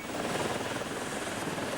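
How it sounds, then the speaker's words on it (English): Police air ambulance helicopter at a road accident scene in north-east England, its steady broadband rotor and turbine roar continuous and fairly loud throughout, with no voices. "At the scene of the road accident, the police helicopter is preparing to leave"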